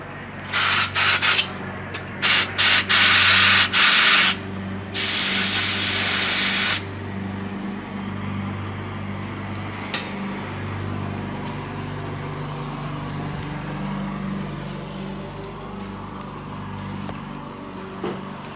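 Compressed air from an air compressor blasts dirt out of carburetor parts from an Arctic Cat EXT 600 snowmobile in a series of loud, close hissing bursts. A low mechanical hum follows once the spraying stops.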